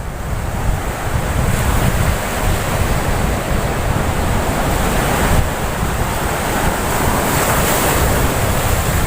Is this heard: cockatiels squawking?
no